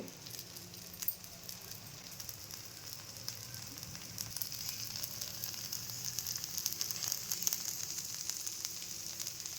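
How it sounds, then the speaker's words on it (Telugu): Rava dosa batter frying on a hot pan with a light drizzle of oil, a steady close crackling sizzle that swells slightly, with no voices. "ఈ విధంగా దోశ వేసుకున్న తర్వాత మీదనే కొద్దిగా లైట్గా మనం ఆయిల్ అనేది అప్లై చేసుకోవాలి"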